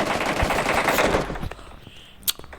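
Rapid automatic gunfire in the PUBG Mobile game rattles loudly for about a second and a half, then fades, with a single sharp shot near the end.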